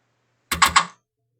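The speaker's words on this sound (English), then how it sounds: "that clicking noise is the floppy drive" Sharp mechanical clicks from a Commodore Amiga floppy drive checking for a disk, three quick close ticks in a short burst, standing alone against silence.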